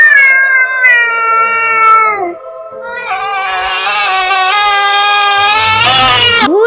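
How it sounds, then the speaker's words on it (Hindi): A cat cries out in long, drawn-out wailing meows, loud and close, one plaintive yowl followed by a longer rising and falling cry. "बिल्ली के रोने की आवाज़"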